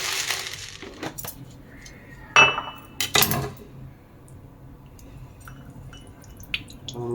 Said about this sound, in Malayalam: അത് നല്ല കല്ലുപ്പെട്ടിട്ടുണ്ടല്ലോ, നല്ല ഒരച്ചൊന്ന് കഴുകി വൃത്തിയാക്കാൻ പോകണം.